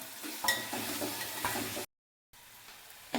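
Tomatoes roasting in a pan with onion and garlic, giving a steady close sizzle broken by scraping stirs, a brief gap of silence, then more sizzling.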